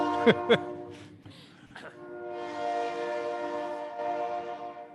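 A train horn blares outside a Lebanon, Oregon council work session. Two short sharp toots come first, then a long, loud, droning blast that continues to the end.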